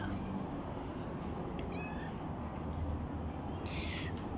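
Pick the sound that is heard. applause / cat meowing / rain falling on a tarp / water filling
cat meowing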